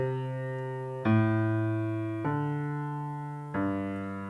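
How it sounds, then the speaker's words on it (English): Piano bass line of a I-IV-II-V-I progression in G, four sustained low notes struck one after another, each ringing and slowly decaying, played alone and clearly. "So the bass line sounds like this."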